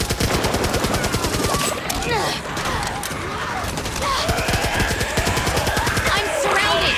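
Rapid automatic gunfire fills the Back 4 Blood PS5 beta battle, loud and continuous bursts of shots layered with other game combat noise and occasional voices.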